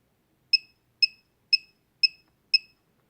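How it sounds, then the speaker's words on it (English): Five short, clean electronic beeps from a Turnigy Evolution radio transmitter, evenly spaced about half a second apart and heard alone against silence. "So I heard 5 beeps there"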